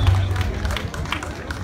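A festival crowd at a Latin music festival in Cambridge, Maryland applauds a live band, a dense, steady wash of many hands clapping at close range, mixed with murmuring voices throughout.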